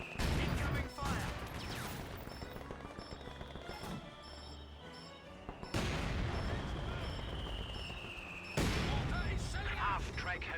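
Rolling gunfire and artillery blasts from a Company of Heroes 2 battle, loud and continuous with sharp bursts, heavy booms and a whistling shell, while soldiers shout over the fighting.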